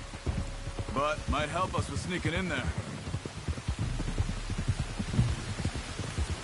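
Steady rain hisses throughout a scene in the video game Red Dead Redemption 2, staying at a constant level. A voice speaks over the downpour for the first few seconds.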